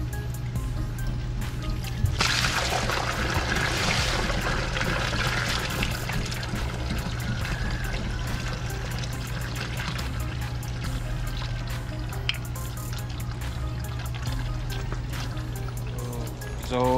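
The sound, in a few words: water draining from pond filter chambers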